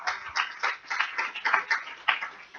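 Congregation clapping during a church sermon, a steady run of clustered claps with a rhythmic, irregular pulse, moderately close and sustained throughout with no talking.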